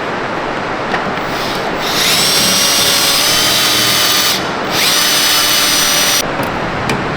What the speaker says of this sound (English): So yeah, drill that bitch out.